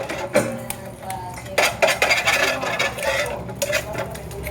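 Eggs being beaten in a bowl with a utensil, a rapid clatter of clinking strokes close by with a short pause near the start.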